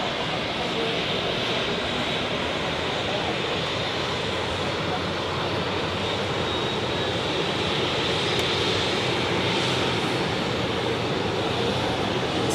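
An Airbus A350 taxiing at Zurich Airport, a steady broadband engine roar that holds constant throughout, loud and fairly close with no clear speech over it.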